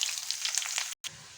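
Onions sizzle and crackle as they fry in hot oil with cumin and bay leaf, a steady close hiss that cuts out briefly near the end and then resumes.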